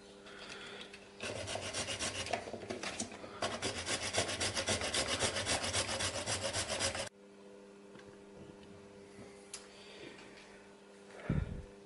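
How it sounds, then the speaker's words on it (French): A hand saw cuts through a plastic impeller from a car blower fan with quick, close rasping strokes for several seconds. Then it stops, leaving quieter handling noise and a final bump. "je l'ai affaibli à la scie"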